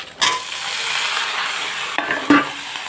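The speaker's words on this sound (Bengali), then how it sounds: "দেখো এখানে পেঁয়াজ লঙ্কা ভাজা প্রায় হয়ে গেছে আমার" Onions and chillies frying in a pan make a loud, steady close sizzle, with a few sharp scrapes and knocks from stirring.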